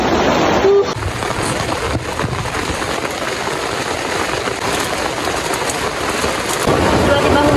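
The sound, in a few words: heavy rain at a mountain campsite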